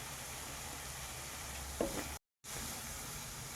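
Spice powders frying in a pan over a gas stove on low flame, a soft steady sizzle with a faint stir, cut by a brief dropout of silence.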